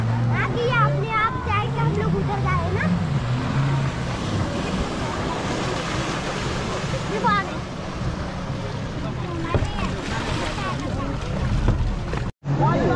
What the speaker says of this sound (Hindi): देखो भाई नाव देखो क्या लेकिन कटिंग मार रहा है